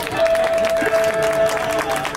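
Audience applause at an outdoor concert at the 2019 New Taipei City Hohaiyan music festival, a steady wash of clapping from the crowd with a sustained tone ringing through it, with no talk over it.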